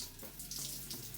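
Water runs steadily from a tap close by as it is applied to hair before styling product, a continuous splashing flow at low level with no talking.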